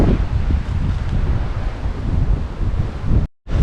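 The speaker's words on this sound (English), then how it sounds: "Battling the wind." Strong coastal wind roars and buffets the microphone on Dirk Hartog Island, a steady loud rush that cuts off abruptly near the end.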